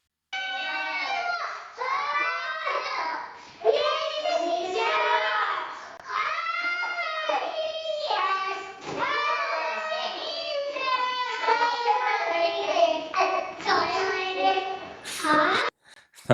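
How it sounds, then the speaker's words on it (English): AI-generated kids screaming: several children's voices shriek, wail and shout in overlapping bursts, loud and continuous with brief gaps, ending in a sharp high squeal. "I can hear the kids screaming a lot, but I can't even hear the TV playing."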